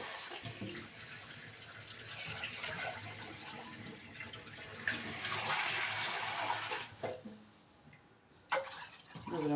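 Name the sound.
water from a tap being added to soup pot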